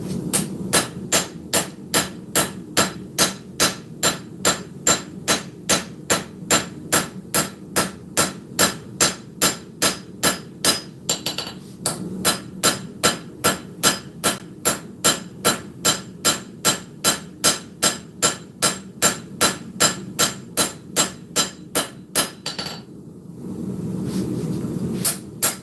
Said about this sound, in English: I'm using my my little bitty tiny dog head hammer from Mr. Brian House and Gnome Hammer Forge.